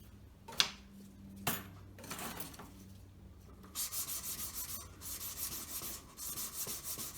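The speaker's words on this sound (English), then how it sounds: "I'm moving on to the finer buff sticks" A wedding ring is worked over with buff sticks, first in a few isolated scrapes and knocks, then in rapid, rhythmic back-and-forth rasping strokes that carry on steadily, close and fairly quiet.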